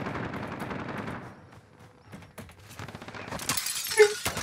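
Video game gunfire from Call of Duty: Warzone, with a quick volley of shots at the start, scattered bursts through the middle and a louder, sharper burst near the end.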